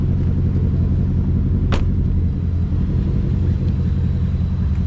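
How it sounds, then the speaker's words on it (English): A Jaguar's 5-liter supercharged V8 engine rumbles steadily at idle, deep and loud, with a brief sharp click partway through. "I guess it's a 5-liter supercharged V8 from the factory."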